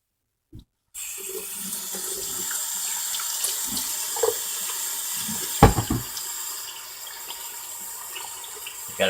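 Kitchen tap water runs steadily into a sink during handwashing after chopping green onions, starting abruptly and continuing close by, with a few clunks and splashes.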